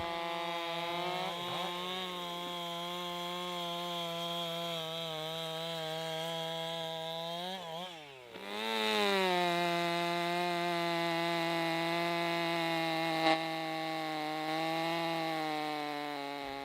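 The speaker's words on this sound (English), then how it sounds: "I'm showing several of my chainsaw comparisons here" A chainsaw cutting wood runs steadily at high revs, briefly dipping and bogging mid-cut before climbing back up; loud and close, no talking.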